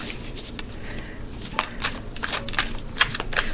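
Playing cards are shuffled close by, with quick riffling bursts and soft flicks repeating over a few seconds.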